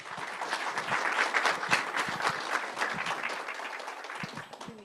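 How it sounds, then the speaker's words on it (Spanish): An audience gives a round of applause at a talk on gender, migration, science and art. The clapping is fairly dense and moderately quiet, swelling briefly, then thinning toward the end with a few last claps. "Les pido un aplauso y les cedo la palabra."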